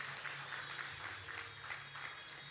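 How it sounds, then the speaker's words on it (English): An audience at a regional powerlifting championship in the Cayman Islands claps steadily for the athletes, moderately distant and continuous, with a faint hum underneath. "Another round of applause for all of our Flight A athletes"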